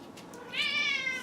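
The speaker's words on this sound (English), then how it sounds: "Cat." A house cat gives a single clear meow, close and fairly soft, rising after a brief quiet lull in an indoor room.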